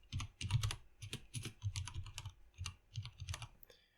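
An email address is typed on a computer keyboard, a quick uneven run of soft, close key taps with brief pauses, fairly quiet and without talking.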